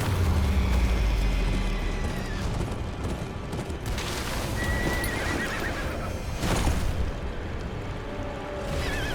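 Horses whinny loudly in a Game of Thrones: Kingsroad battle, over a thick, rumbling din of hooves clattering and battle noise, with a couple of sharp bursts partway through.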